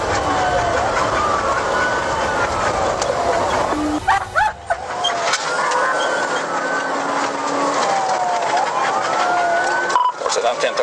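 A police car siren wailing during a high-speed chase, rising and falling sweeps over loud road and engine noise, briefly cut and resumed, with radio-style talk mixed in.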